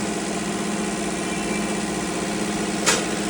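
A Mahindra Arjun Novo 605 tractor's diesel engine runs steadily nearby, a continuous rumbling hum with an even vibration and one faint click near the end.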